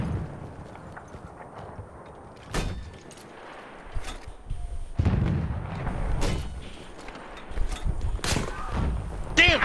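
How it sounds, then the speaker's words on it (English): Mortar fire in Battlefield 1 during a military-sim squad match: a few heavy, deep thumping booms spread across the clip, some near and loud, others more distant, with scattered game noise and voices between them. "Permission to use mortar?"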